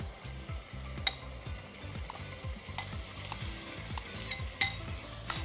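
Mutton dropped into hot masala in a pan sizzles hard and steadily while a spoon stirs and scrapes the metal in short repeated strokes, close up with no talking.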